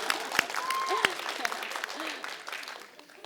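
Audience at an EVE Fanfest 2025 panel applauding, a moderate burst of clapping under and around a voice talking over it, fading slightly toward the end.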